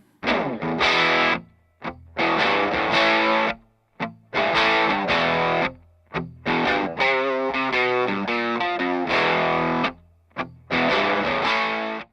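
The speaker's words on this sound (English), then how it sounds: "my lovely red Hagstrom with the PAF pickups was going through the Effectrode tube drive" A thick, distorted electric guitar with PAF pickups through a tube drive, triple-tracked, plays chunky chords and short riffs, layered into a wide, saturated wall of sound with brief gaps between phrases.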